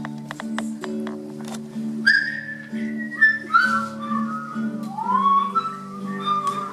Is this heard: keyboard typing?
no